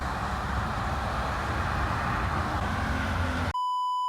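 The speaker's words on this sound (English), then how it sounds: "You hear cars?" Cars pass on the side of Hall Road as a steady broadband traffic rush, loud and continuous, then cut off abruptly and give way to a sharp electronic beep.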